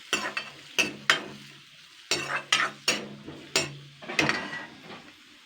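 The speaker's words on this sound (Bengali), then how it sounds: "কুচানো পেঁয়াজটা আমি আগে দুই চার দুই তিন মিনিট নাড়াচাড়া করে নেবো হালকা করে কিন্তু ফ্রাই করে নেবো" Chopped onions stirred and fried in a wok, with a spatula scraping the pan in close, uneven strokes over a soft sizzle and short pauses between.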